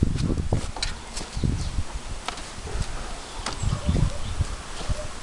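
Honeybees buzz in an opened wooden beehive as the lid comes off for spring syrup feeding, giving a continuous close drone mixed with rustling and knocking handling sounds throughout.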